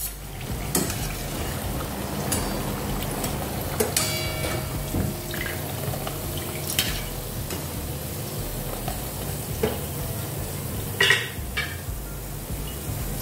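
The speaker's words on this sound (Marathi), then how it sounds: "ह्या सर्व आपण तळून घेऊया. पाहू शकता किती छान आपल्या ह्या पुऱ्या तळून झालेल्या आहेत." Khari puris deep-frying in hot oil, giving a steady, dense sizzle and bubbling that runs unbroken throughout, with a few faint clinks and brief sharper crackles along the way.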